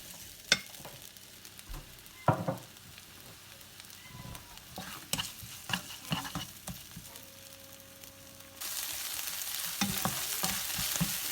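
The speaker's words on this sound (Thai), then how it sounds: "พอน้ำมันเริ่มร้อนแล้วเราก็มาใส่พริกกับกระเทียมเลยนะคะเพื่อนๆ" Chili and garlic hitting hot oil in a wok for a Thai stir-fry of holy basil with instant noodles, first scattered stirring clatters and light sizzles, then a loud, steady frying hiss for the final few seconds.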